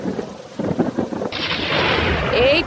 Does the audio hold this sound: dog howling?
no